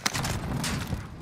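Call of Duty gunfire, a dense, continuous rattle of shots and thudding impacts close by over roughly a second, with no voices.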